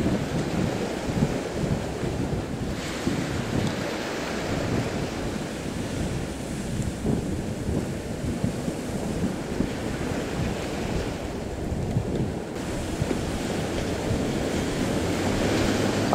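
Big sea waves pounding during a storm as a boat crosses them, a continuous loud roar of surf and wind with heavy rumbling underneath, steady and close with no voices.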